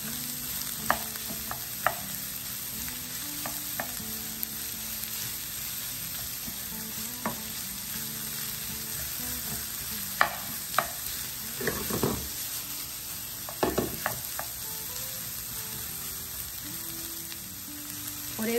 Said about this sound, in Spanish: Y vamos a sofreír un poquito.